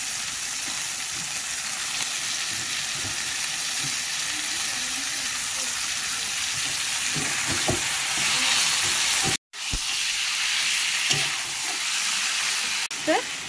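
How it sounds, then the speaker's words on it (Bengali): Chicken pieces added one by one to spices frying in a pan for chicken kosha, giving a steady loud sizzle with occasional clinks and stirs and a brief drop to silence partway through. "তো এবার এক এক করে সমস্ত মাংসগুলো এতে দিয়ে দেবো।"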